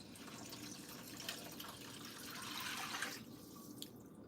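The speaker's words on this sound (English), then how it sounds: "Pour in the water and then let it boil." Water is poured into a cooking pot while making misua noodle soup at home. The stream is steady and faint, with soft splashing that swells slightly before tapering, and no voices.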